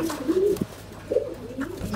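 A pigeon coos softly in a few low, rounded calls, one near the start and another about a second later, close by with a faint background hum.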